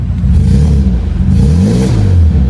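Close, loud revving from a car's 2-liter four-cylinder engine, a rumbling idle that climbs into a couple of rising, falling surges.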